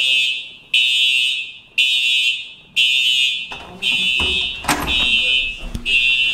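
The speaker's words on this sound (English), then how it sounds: "That's how we start off our day, with a fire alarm." A fire alarm blares in loud, steady repeating bursts about a second apart, then keeps sounding continuously while knocks and movement clatter underneath.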